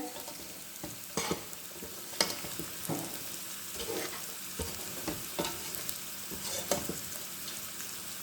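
Sliced onions frying in oil for mutton chops, sizzling steadily in a pan with a constant hiss, broken by repeated scrapes and clatters of a spatula stirring them.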